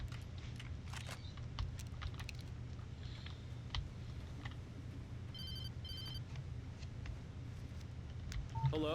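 In Alan Wake, a phone rings in short, repeated electronic trill bursts partway through, over a low rumbling ambience with scattered clicks and taps.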